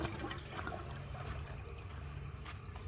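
Water running from an American Standard Homestead VorMax toilet with a slow fill valve, a soft continuous rushing and trickle that stays quiet and steady throughout, with no talking.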